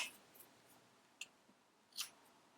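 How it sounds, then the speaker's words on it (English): Scissors snipping crochet yarn, two or three faint, quick close snips in a quiet room. "then you're going to snip off your yarn"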